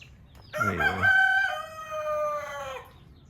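A nearby rooster crows once, loud and clear, in a rough rising burst that stretches into a long held note before it trails off over quiet background.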